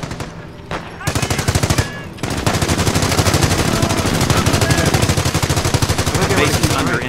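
A .30 cal machine gun rattles in long, rapid sustained bursts in the video game Company of Heroes, loud and close, with scattered battlefield gunfire layered underneath.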